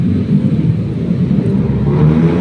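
Motorcycle exhaust noise on a road, a steady low engine rumble with continuous droning, loud and close, with no voices.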